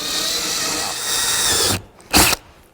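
A power drill whirs steadily while boring a pilot hole for overfenders on a Yamaha Wolverine RMAX, then cuts off and gives one short final burst, loud and close.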